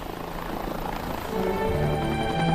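A helicopter's rotor and engine drone steadily, a loud throbbing whir that builds and grows stronger toward the end, heard alone.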